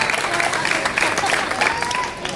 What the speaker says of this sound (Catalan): Un fort aplaudiment també